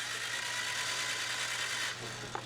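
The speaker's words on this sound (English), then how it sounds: "this is all I have to do to crank this engine over" A car engine cranks over with a relay starter tool during compression testing: a steady, mid-pitched mechanical whir held loud for about two seconds before easing off with a small click.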